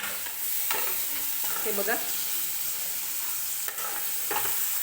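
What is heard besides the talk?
onion and chopped garlic frying in oil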